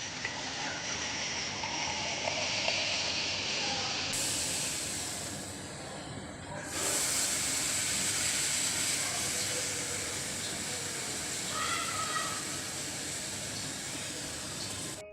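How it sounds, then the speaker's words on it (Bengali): Hot tea poured into a heated clay pot for tandoori chai gives a loud, sustained hiss with bubbling and frothing, close by. A second surge follows a brief drop partway through. "এখনই গরম হাঁড়ির মধ্যে গরম চাটা ঢেলে দিব।"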